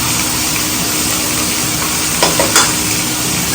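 Tomatoes frying in a pan in a home kitchen give a steady close sizzle, with a couple of brief louder scrapes from stirring near the end.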